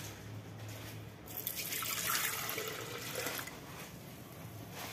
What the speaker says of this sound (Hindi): अब हम 1 कप दूध डालेंगे।